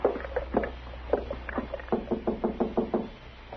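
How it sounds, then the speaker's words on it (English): Knuckles rap on a wooden door in a series of uneven knocks, a few scattered taps and then a quicker run of about eight close, fairly quiet knocks. "go ahead and knock"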